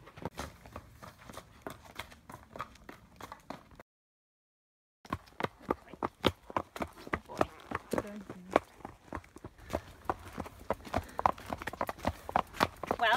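Hooves of a young horse clip-clop steadily at a walk under a rider heading out alone from the yard, close and clear, with a brief full dropout partway through.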